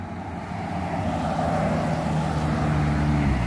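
Pickup trucks drive past on a road, a broad engine and tyre roar swelling steadily louder and closer over a few seconds.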